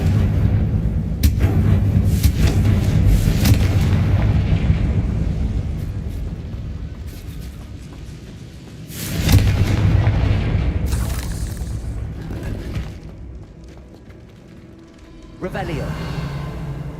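A Confringo blasting spell in the Hogwarts Legacy video game sets off deep booming explosions, a loud rumbling blast early and another sharp one midway, each decaying slowly, with someone speaking over parts of it.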